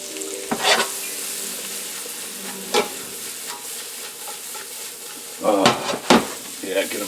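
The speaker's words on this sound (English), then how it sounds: "And that butter, I'm going to add these mushrooms. These are cremini mushrooms," Sliced cremini mushrooms hit hot butter in a pan and sizzle steadily, with a few louder bursts of frying and utensil stirring scrapes up close; no talk.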